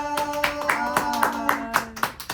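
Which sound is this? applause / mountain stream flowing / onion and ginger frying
applause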